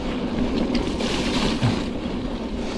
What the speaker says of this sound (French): Ça va éclabousser.